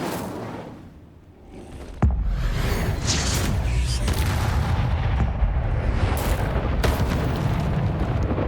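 A fire spell is cast in the Hogwarts Legacy video game, a sudden loud whoosh and boom followed by a sustained roaring, crackling rumble of flames and battle effects, with no talking.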